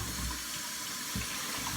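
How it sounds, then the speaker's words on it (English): Water runs steadily into a sink and drains through the hose of a Hoover carpet cleaner being rinsed, a close, continuous gurgling rush with slight surges and no talking. "I start filling up the other end, and then let the water go down, give it a little bit more water, let the water go down"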